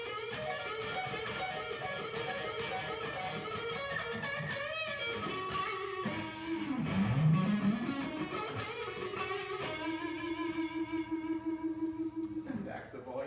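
Electric guitar played on the rhythm pickup at full volume through a distorted amp, a bassy, sustained run of chords and single notes with effects, loud and continuous, ending in a held note.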